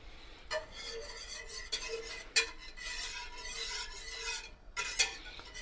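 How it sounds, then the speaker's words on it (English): A spoon scrapes around a cooking pot of milk and butter for chicken alfredo, giving soft continuous stirring with a few sharp metallic clinks against the pot, close and without talk. "Let's go ahead and stir this a little bit."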